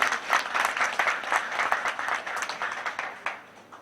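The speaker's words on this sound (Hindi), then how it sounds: "एक बार जोरदार ताली बजा के उनका हौसला अफजाई करें" At a community gathering in Patna, an audience applauds loudly to honour journalists, with dense, sustained clapping from many hands filling the hall.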